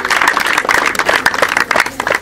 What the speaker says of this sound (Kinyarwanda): Tumukomere amashyi cyane.